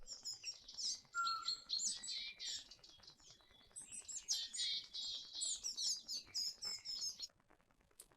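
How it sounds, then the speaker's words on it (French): A busy chorus of high chirps and twittering calls from many small songbirds mobbing after pygmy owl calls played from a speaker, overlapping and restless, moderately faint with brief gaps. "vous allez entendre 2 appels de chevêchette, et derrière, toute une masse d'oiseaux qui arrivent"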